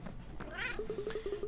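A kitten character in the video game Cat Quest gives a short rising meow, then a quick string of small chirping mews, moderately loud over a soft game background.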